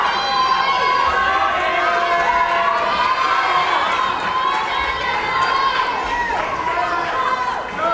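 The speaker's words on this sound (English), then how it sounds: "Oh, and the crowd is cheering them on." Spectators cheer swimmers on at an indoor high school swim meet, a loud, continuous roar of shouting and chatter echoing around the pool area, with voices rising above the din.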